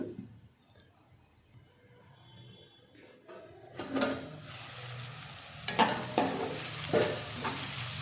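Onions frying toward golden brown for crab curry, quiet at first, then a lid or pan clatter and a rising sizzle with several sharp stirring scrapes, close and moderately loud.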